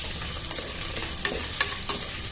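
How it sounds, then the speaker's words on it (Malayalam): Sliced onions sautéing with salt in a pan for vegetable biryani, a steady close hiss of frying with a few soft stirring scrapes and taps, no talking. "സവാള നന്നായിട്ട് വഴണ്ട് വരണം"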